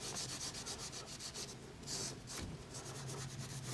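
Cloth rags wiping grease from Polaris Ranger suspension parts during reassembly, a steady close rubbing and scuffing that runs continuously with brief swells, no talking.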